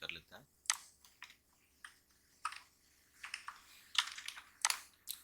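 Keystrokes clatter on a computer keyboard in short irregular bursts of clicks, close and fairly quiet, while a product description is typed into a cash memo design in Photoshop 7.0.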